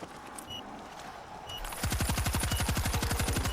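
Rapid automatic gunfire in the zombie shooter World War Z, Rome level, erupts after a quieter opening of ambient game noise, a fast steady burst of loud shots lasting to the end.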